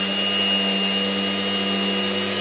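A power sander presses hard against wood, giving a loud, steady electric whine and buzz with a strained motor tone, continuous and close throughout.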